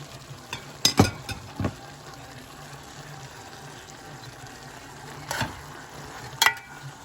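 Green pepper and broccoli stir-frying in a pan, with a steady sizzle under a few sharp scraping stirs, some close and loud, spaced irregularly across the stretch with no talking.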